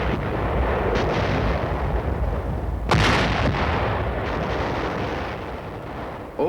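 A U.S. Army artillery barrage roars as a continuous loud rumble of distant guns, with one sharper blast standing out midway.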